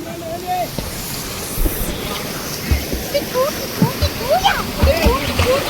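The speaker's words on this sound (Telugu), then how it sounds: "ఇదొచ్చింది వాటర్ ఫాల్ చూద్దాం" Paritala waterfall pours and splashes in a constant broadband rush close by, with several excited voices talking and calling out over the roar of the water.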